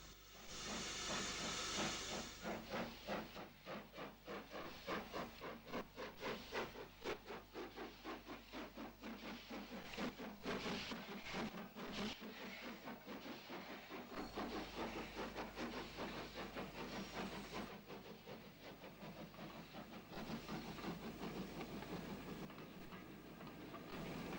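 Royal Scots Grey, a steam locomotive on a UK main line, hisses steam continuously. Rapid rhythmic chuffing pulses run through most of the stretch, and the whole sound stays fairly distant and moderate in level.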